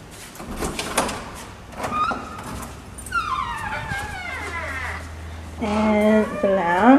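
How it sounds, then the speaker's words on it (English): An apartment's front door opens with some knocks and handling sounds, then a long creaking squeal from the hinges. Voices come in near the end. "Walking through the front door."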